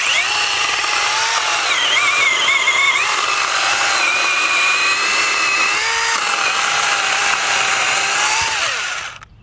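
A SEESII PS800 electric mini chainsaw cuts into green sweet gum wood, a loud, close, steady high whine whose pitch dips under load, running unbroken for about nine seconds before winding down.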